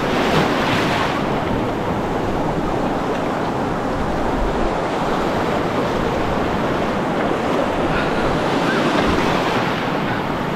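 Sea waves break on a Philippine shore near Bacolod City, a loud continuous wash of surf with wind buffeting the microphone and no voices.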